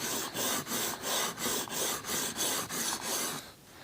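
A knife being sharpened on a coarse diamond grit stone, about ten even, rhythmic rasping strokes close up, each a loud scraping swipe, ending in a short pause with no talk.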